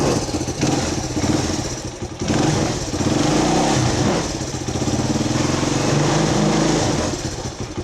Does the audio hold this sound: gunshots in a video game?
no